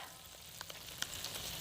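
Spoonfuls of batter-like dough dropped into hot frying oil, pancake style, giving a steady soft sizzle with a few sharp pops and crackles, close and fairly quiet, with no voices.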